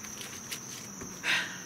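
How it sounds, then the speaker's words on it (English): Crickets chirp in a steady, high, thin trill that runs throughout, with faint rustling and a brief louder scrape near the end. "The music of the crickets singing."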